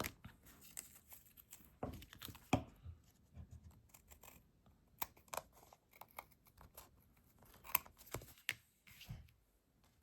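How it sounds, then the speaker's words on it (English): Scissors trimming excess cardstock while making a handmade Halloween card, a series of quiet close crisp snips and small rustles at an uneven pace, with no talking. "then we can take our scissors and chop off the extra"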